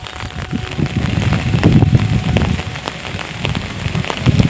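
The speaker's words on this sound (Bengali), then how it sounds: "তো প্রচুর বৃষ্টি পড়া করে" Heavy rain falls steadily over a village, making a loud dense patter on surfaces with sharper drops standing out throughout, and no voices.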